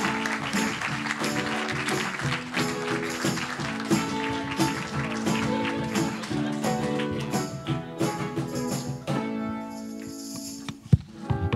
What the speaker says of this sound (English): Please give them both an amazing round of applause.